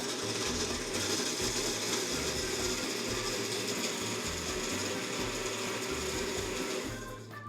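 A kitchen blender with its lid on runs continuously at high speed, a loud, steady motorized whir with a rhythmic grinding churn that winds down slightly at the end.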